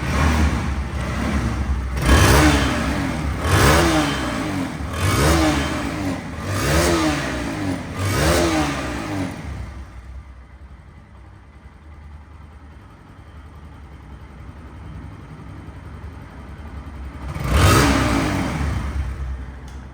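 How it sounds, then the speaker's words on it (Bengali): A second-hand Bajaj Pulsar NS 160 motorcycle with 4,800 km on it revs up sharply about five times in quick succession. It then settles into a lower idle before one last loud rev, with no talking. "তো এখন সাউন্ড কোয়ালিটি শোনাবো বাইকটি আটচল্লিশশো কিলো চলা"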